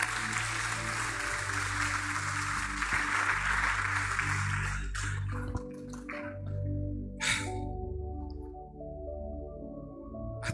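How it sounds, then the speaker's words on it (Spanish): A church congregation applauds in a dense, sustained burst that fades out after about five seconds, followed by a low room hum and a few faint scattered sounds. "Dele un aplauso al Señor."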